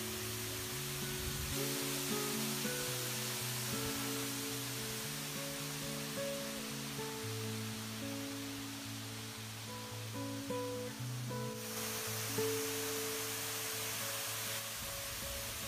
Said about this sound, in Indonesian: Air terjun ini sahabat sangat menenangkan, sangat asri, sangat segar juga.